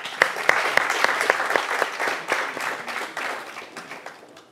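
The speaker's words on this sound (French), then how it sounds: "On les applaudit," A studio audience applauds steadily, dense claps at close range that fade slightly toward the end.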